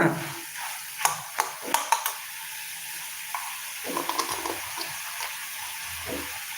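Potatoes are stirred and sautéed in a pan for a potato peas curry, with a soft steady sizzle and several sharp clinks and scrapes of a spoon against the pan, close and without speech.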